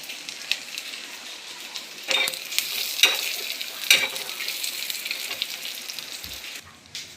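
Coriander seeds dry-roasting in a pan for a Vidarbha soybean vadi curry, a steady soft rustling crackle with a few sharper scrape-like stirs spaced a second or so apart, close and fairly quiet, no talking.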